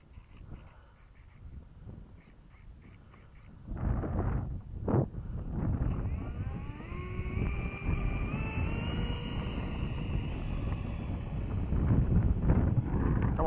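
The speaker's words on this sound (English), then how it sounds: "We got the wind coming out strong here." Strong outdoor wind buffets the microphone in heavy gusts at a model jet flying field, building from low rumble to a loud roar, while a faint rising whine of an RC F-16 jet fan drifts in.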